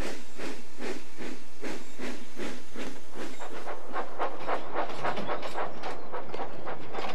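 A steam engine train puffs steadily along through countryside, with a regular, rhythmic chuff that quickens slightly, mixed with hiss and track clatter, loud and alone.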